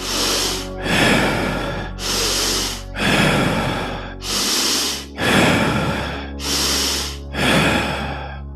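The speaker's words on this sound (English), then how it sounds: "each cycle consists of a period of deep breathing," Deep Wim Hof style breathing, about eight rhythmic cycles of forceful inhales and exhales, loud and close to the microphone with brief pauses between breaths.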